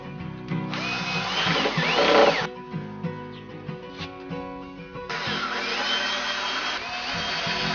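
Power drill driving fixings through 60 by 60 wooden squares into 1.5 m stakes while building the sides of a DIY solar drying box, in two long loud whirring bursts separated by quieter rattling handling noise.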